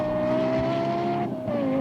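A Lexus LFA sports car on track holds a high, steady engine whine at high revs, dips briefly as if shifting, then picks up again, loud and close with no voices.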